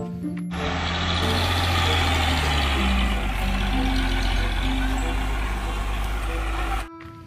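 A toy tow truck's electronic sound effects play steadily for several seconds: a low engine-like rumble with a series of stepped beeping tones over it, then it cuts off.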